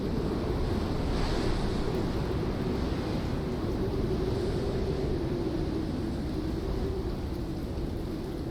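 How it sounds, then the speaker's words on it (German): Strong wind roars steadily across the microphone at the seaside, a constant loud buffeting rush over the surf with no letup and no voices. "warum muss jetzt auch gerade der Wind so stark sein?"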